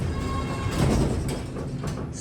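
Southern hydraulic elevator doors, built around 1988, sliding open or shut, a rough scraping rumble with a faint chime tone early on and a few clunks near the end.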